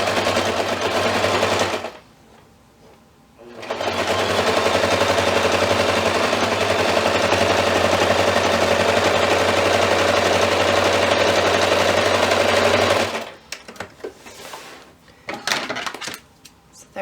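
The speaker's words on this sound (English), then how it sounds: "start sewing" Sewing machine stitching a quilted table runner, a loud steady motor hum that runs for about ten seconds after a brief pause, then stops amid handling clatter.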